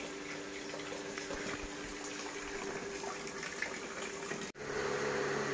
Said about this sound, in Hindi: पानी आ रहा है छत से, कच्ची छत है मेरी, ये देखिए यहाँ से लीक हो गई है